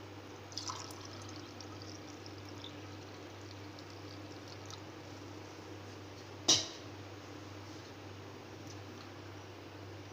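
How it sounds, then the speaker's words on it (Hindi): Swollen, water-soaked basil seeds (tukhm malanga) go into a Tang sherbet with soft wet pouring sounds, faint over a steady background hum, followed by one sharp knock. "ये मैं इसमें तुखम मलंगा डाल रही हूँ। मैंने पानी में भिगो के रखा था और ये फूल गया। अब इसमें डाल रही हूँ।"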